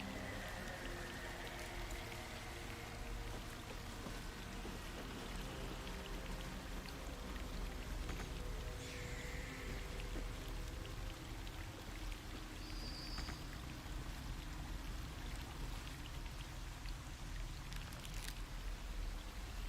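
Waterfall in the Baldur's Gate 3 video game, a steady, even rush of falling water that hisses and splashes continuously throughout, with no breaks or other sounds standing out.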